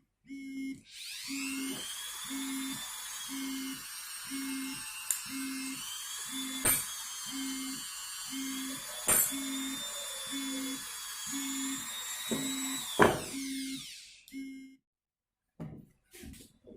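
A rotary tool whines steadily while sanding the threaded parts of a Washburn X Series guitar to strip rust, crust and flaking paint, with short regular pulses of contact and a few clinks near the end.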